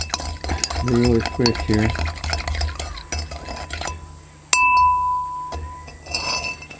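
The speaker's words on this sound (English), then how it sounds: "I'm going to stir it up" A spoon stirs sugar in a glass container, clinking and swishing in short bursts while someone talks at the start, followed by a sharp clink and quieter stirring.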